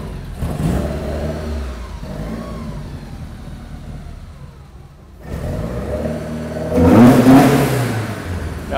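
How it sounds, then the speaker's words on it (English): A Porsche 944 track car engine with throttle bodies revs up and down, showing a rumbling idle and then a sharp, loud throttle blip with strong induction noise, heard close and alone. "you can definitely hear the throttle bodies and the induction noise there"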